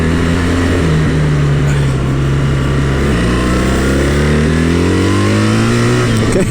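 A BMW R1300GS motorcycle accelerates hard and loud, engine pitch climbing steadily with quick-shifter gear changes causing brief dips and restarts of the rising drone.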